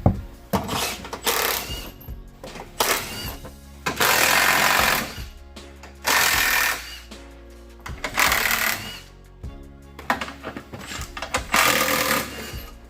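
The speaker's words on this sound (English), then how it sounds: "next thing we're gonna do is take off this skid plate" Work under a 2015 GMC Yukon Denali to take off the skid plate: bursts of rapid, rattling power-tool hammering, likely an impact wrench on bolts, alternating with short pauses and clanks, close and loud.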